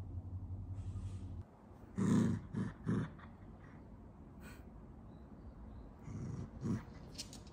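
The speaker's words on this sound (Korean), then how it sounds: "이렇게 붙었는데 뭘 으르렁대고 있어" A dog growls low and close in short rumbling bursts, with a couple of quieter breathy pauses between the grumbles.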